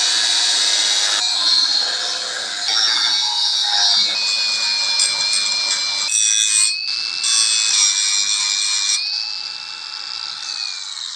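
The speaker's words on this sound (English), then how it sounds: "I'm gonna cut a notch out of this." Metal being cut to notch a latch holder for a landscape trailer ramp gate, a loud continuous abrasive whine with shifting pitch and brief interruptions, heard alone and close.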